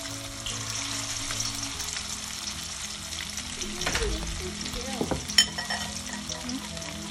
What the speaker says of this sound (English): Next, let's fry the fish pieces.